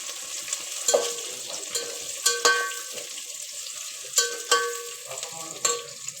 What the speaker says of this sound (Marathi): कांदा चांगला लाल होऊन घ्यायचा।